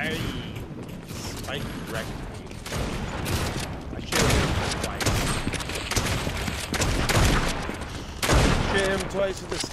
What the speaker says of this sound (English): Shoot him twice with a sniper.